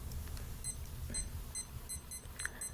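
A drawing timer beeping in a quiet room, a run of short, faint, evenly spaced electronic chirps repeating about twice a second over low background hum.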